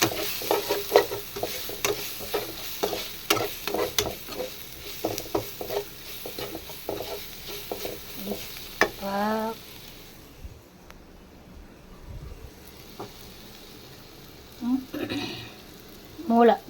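Spices and meat sizzle and fry in a pan while a utensil stirs and scrapes in a quick, irregular rhythm, close up, with occasional voices in between.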